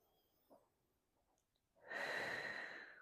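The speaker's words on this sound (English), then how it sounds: "One more deep breath." Deep breath drawn during a floor stretching routine for period relief: a faint sniff early on, then a long, loud, airy exhale lasting over a second, close to the microphone.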